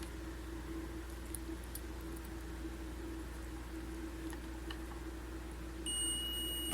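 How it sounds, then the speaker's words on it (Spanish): A steady high electronic beep from a digital multimeter's continuity test on a cable starts near the end over a quiet background hum. "Si el cable se encuentra bien, va a sonar el pitido."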